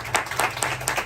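Audience at a seminar or training talk claps in a loud, rhythmic burst, with strong regular beats about every quarter second, like a group clapping together in time.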